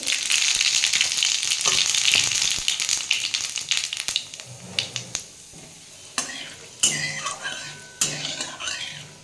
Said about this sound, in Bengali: আমার তেলটা গরম হয়ে গেছে আমি এর মধ্যে একটু শুকনো লঙ্কা আর সাদা জিরে ফোড়ন দেবো